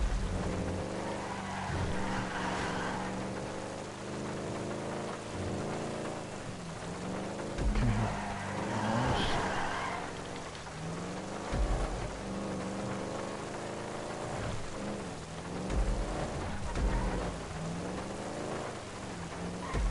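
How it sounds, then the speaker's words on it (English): Heavy rain with rumbling thunder falls during a race in the video game GTA V, a continuous loud wash of downpour layered over engine drone, swelling and easing across the stretch. "It had to be raining on my race."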